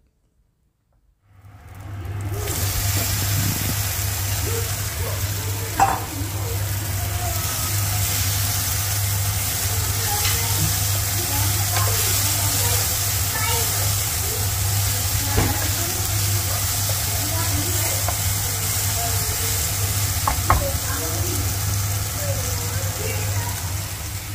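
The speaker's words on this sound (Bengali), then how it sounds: "এরপর ওই ভেজে রাখা যে সবজিগুলো ওগুলোর মধ্যে দিয়ে দেওয়া হবে" Fried vegetables stirred into cumin and chilli in hot oil give off a steady, moderately loud sizzle with a low background hum and occasional spoon clicks, starting after a moment of silence.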